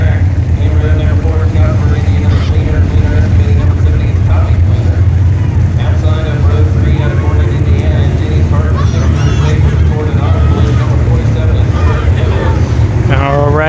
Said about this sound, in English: Race 2 rolling out on the track.